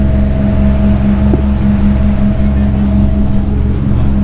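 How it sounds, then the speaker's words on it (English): A deep-sea fishing charter boat's motor drones loudly and steadily up close at the stern, a constant low hum with water and wind noise around it. "This motor's loud, especially when you're right there beside it in the back."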